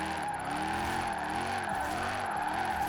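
An SUV drifts sideways in Forza Horizon 4 on drag tires. The engine drones steadily with wavering revs, and constant tire squeal holds throughout the slide, loud and unbroken.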